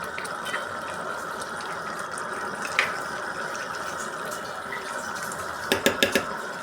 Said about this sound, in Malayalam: ഇനി നമുക്ക് ഇത് നമ്മുടെ ബീഫ് കറിയിലോട്ട് ആഡ് ചെയ്ത് കൊടുക്കാം. ഇനി നമുക്കിത് നന്നായിട്ട് ഇളക്കി കൊടുക്കാം.